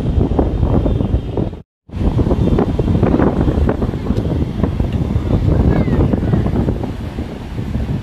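Ocean waves on Puri beach give a loud, continuous roar, with heavy wind buffeting the microphone; the sound drops out for a moment and then returns.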